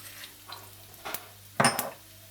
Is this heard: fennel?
yes